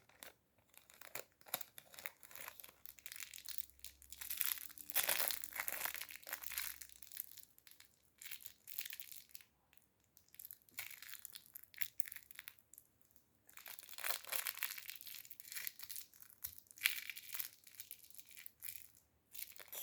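A Brawl Stars card pack wrapper is crinkled and torn open up close in quiet ASMR style, with soft crackling plastic rustles coming in uneven bursts.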